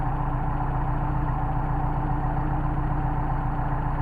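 Mercedes 190SL engine idling steadily on Solex carburetors at about 700 rpm in 29°F cold, a smooth continuous low hum with a faint regular pulse, close by and unbroken.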